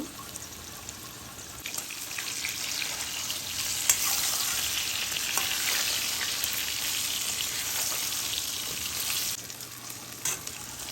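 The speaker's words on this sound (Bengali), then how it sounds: "বেগুনগুলো আমি সোনালি রং করে ভেজে নিলাম" Eggplant slices dusted with a little turmeric fry in hot oil, a steady broad sizzle lasting throughout with occasional stirring clinks and small bursts, fairly close and without speech.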